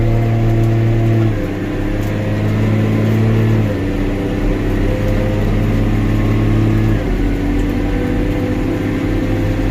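An old tractor engine pulls a 45,000-pound Flexi-Coil air seeder through muddy ground, a loud, steady low drone that shifts pitch a few times as it works, with no talking.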